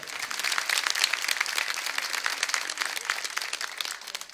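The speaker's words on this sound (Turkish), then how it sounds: "Bir alkış da kendisine gönderelim." Audience applause at a Turkish folk-culture broadcast event from Tokat, a dense, fairly even patter of many hands clapping throughout, moderately near and alone without talk.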